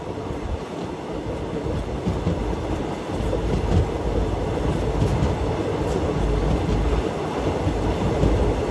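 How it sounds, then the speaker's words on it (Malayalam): The Amritha Express train rolling across the Pamban bridge, a continuous loud rumble of wheels and carriages with faint rhythmic clatter, steady for the whole stretch and without voices. "അങ്ങനെ ഇതാ അമൃത എക്സ്പ്രസ് ആദ്യമായി പാമ്പംപാലം വഴി പോവുകയാണ്"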